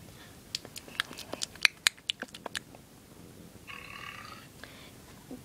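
A girl burps after drinking milk, with a rumbling belch following a run of sharp clicky mouth and swallowing noises, close and fairly loud.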